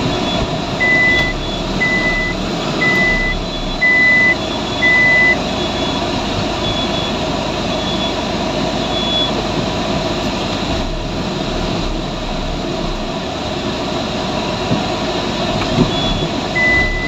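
Repeated electronic reversing beeps sound from a vehicle being parked, about five evenly spaced tones over a steady engine rumble and road noise; no one talks.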